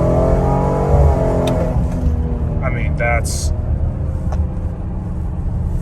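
A Ford Explorer ST fitted with an MBRP exhaust accelerates hard on kickdown, a loud rising engine roar heard from inside the cabin that then settles into a rumble while someone talks over it.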